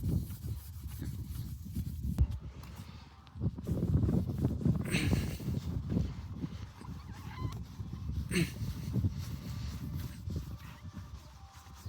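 A car headlight lens polished by hand, a close rhythmic rubbing and scrubbing with brief pauses, no talking.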